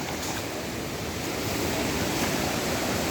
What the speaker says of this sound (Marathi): ह्या साईडून पाणी पाण्याचा प्रवाह थोडा जास्त या साईडला केला आहे